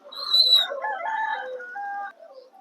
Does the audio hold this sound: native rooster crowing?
yes